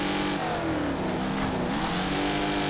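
A car drifting in the Wreckfest racing game, engine droning steadily with pitch rising and falling through the slide, a continuous loud mechanical roar without speech.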